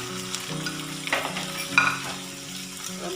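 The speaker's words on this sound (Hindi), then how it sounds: "और मैं चिकन को इसके साथ अच्छे से फ्राई कर लूँगी" Chicken pieces fry in a pan with garlic and ginger for a creamy qorma, giving a steady close sizzle with spatula stirs and scrapes throughout, no talk.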